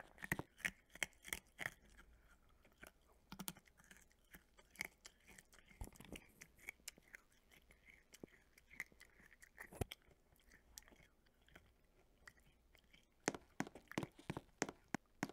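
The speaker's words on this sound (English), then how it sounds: "You wanna hear me crunch this butterscotch?" Hard butterscotch candy crunched and chewed close to a microphone, a long run of crisp, irregular crunches and chewing clicks at low volume with no talking.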